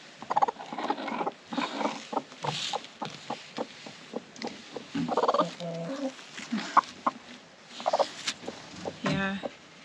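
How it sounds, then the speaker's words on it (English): Chickens, including a broody hen, cluck and gobble repeatedly close by, a busy run of short throaty calls and squawks from several birds. "And we have a broody chicken again."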